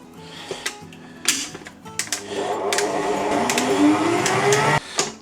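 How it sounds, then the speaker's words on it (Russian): An electric mixer whips cake batter for a homemade rhubarb pie, starting with a few knocks and short bursts, then settling into a loud, steady whirring hum that cuts off abruptly near the end, with no voices. "Время от времени останавливаем и все очищаем со стенок нашего миксера, чтобы все равномерно взбилось."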